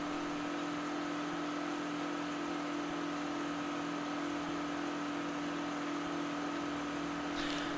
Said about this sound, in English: It is a monstrous tractor.